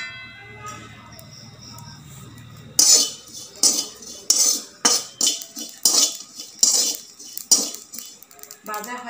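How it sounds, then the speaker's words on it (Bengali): Cashew nuts lightly roasting in a pan, heard as a series of roughly ten rhythmic scraping, clinking stirs of a spatula against the pan after a quieter opening stretch, close and fairly loud. "হালকা একটু ভেজে নেব কাজু।"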